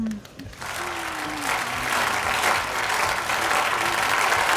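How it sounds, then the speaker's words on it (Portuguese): A studio audience at a sweet peanut and pé de moleque cooking demonstration breaks into sustained, dense clapping that swells after a brief quiet start and continues to the end. "Mais palmas."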